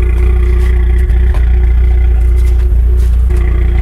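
A home-built budget supercar's engine idles with a deep, steady rumble and low exhaust burble in humid outdoor air, close by and loud throughout.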